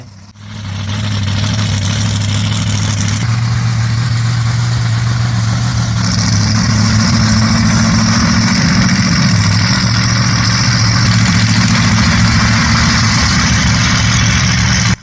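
A truck engine runs steadily while driving with a newly installed rear steer switch, giving a loud, continuous low drone with a slight rise in pitch partway through and no talking over it.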